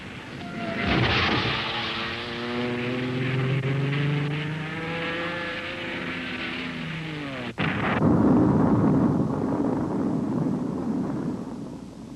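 A propeller airplane's loud engine drones as it loses power, its pitch sliding steadily downward, then a sharp crack gives way to a rumbling roar as the plane crashes.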